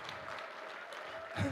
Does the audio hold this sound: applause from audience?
yes